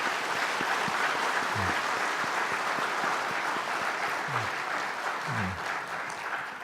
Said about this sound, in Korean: 자, 우리 교육부와 우리 청년교육을 위해서 크게 박수 한번 하겠습니다.